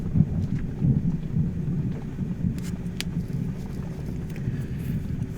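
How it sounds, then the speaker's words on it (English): Low, continuous thunder rumbles loudly and close, rolling on without a break through the whole stretch, with faint rain or wind hiss above it and no voices. "Just taking a break there to let y'all listen to thunder."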